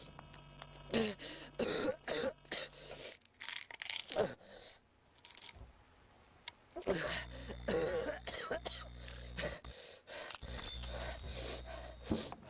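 A man coughs and clears his throat several times in short harsh bursts, interspersed with rustling and rubbing noises, recorded quietly indoors with some talking mixed in.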